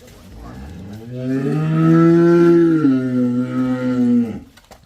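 A single long, loud cow moo, rising and holding for several seconds before trailing off, close by and with no talking.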